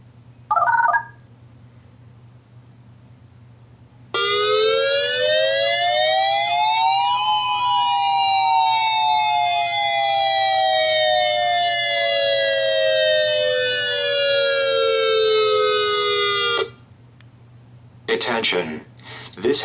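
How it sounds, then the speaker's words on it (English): A loud wailing outdoor warning siren, sounding for a weekly test, rises and falls steadily for about twelve seconds, with brief electronic tones before and after it. "This is a test of the StormWARN outdoor warning siren."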